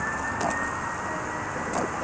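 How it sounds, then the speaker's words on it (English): Emergency vehicle sirens wail in the city near Fort Tryon Park, a distant, steady drone under faint outdoor ambience. "All these sirens coming from."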